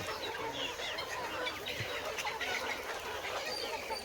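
Chickens cluck softly in the background, several birds murmuring over a constant outdoor hum.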